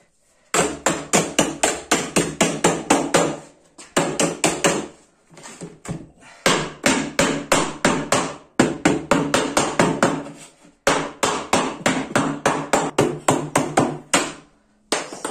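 Rapid bursts of hammer blows on wooden beehive parts, loud and close, coming in quick runs separated by brief pauses.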